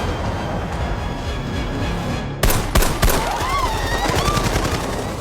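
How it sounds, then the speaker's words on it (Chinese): Gunfire in a tense film scene where armed terrorists surround stranded airline passengers: a few sharp shots crack out mid-clip over a steady background rumble. "听到枪声后"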